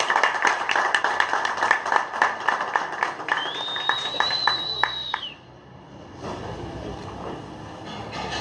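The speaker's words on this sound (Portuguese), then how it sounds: "Uma salva de palmas, por favor" Audience applause at an evening political talk, heard as dense, loud clapping for about five seconds before it cuts off, leaving quieter room noise.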